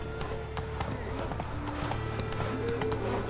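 Roach, a horse in The Witcher 3, galloping with steady rhythmic clip-clop hoofbeats over a continuous game soundscape, close and fairly loud, with a brief voice and a snort or whinny mixed in.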